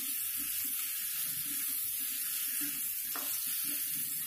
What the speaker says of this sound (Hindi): तेल के छिटके हमारे बदन पे ना उड़े इसके लिए थोड़ा सा आधा कवर करके इसे अच्छे से हिलाना है